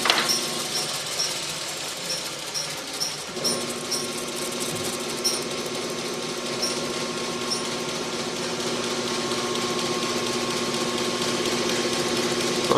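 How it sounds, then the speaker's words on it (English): A hollow grinding machine runs steadily against a knife blade as the edge is thinned and the taper blended, giving a continuous close mechanical whine and grinding rasp with a slight shift early on, no talking. "I'm going to turn my speed down a little bit and then start refining this grind, start thinning my edge down"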